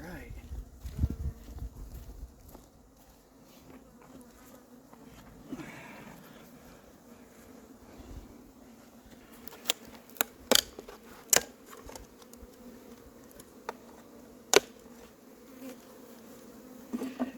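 Honey bees from a newly installed 3-pound package buzz around the hive, a steady low drone that runs through the whole stretch with occasional nearby clicks and knocks, while a few voices talk quietly in the background.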